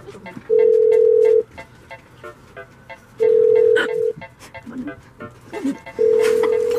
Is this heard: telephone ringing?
yes